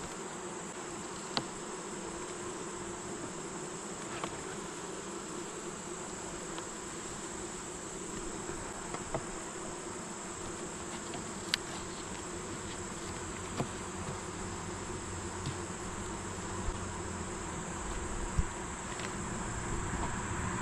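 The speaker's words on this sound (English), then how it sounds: "Too many yellow bees." Caucasian honeybees buzz around open hives in a steady, droning hum, with a few faint clicks and knocks from hive handling over the constant swarm noise; no talking.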